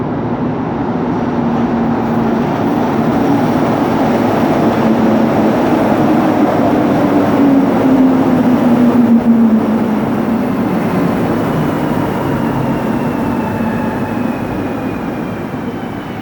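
Metro train in motion with open, unseparated wagons, a loud continuous rumbling roar with rising and falling whine tones as it runs along the track, heard close from inside.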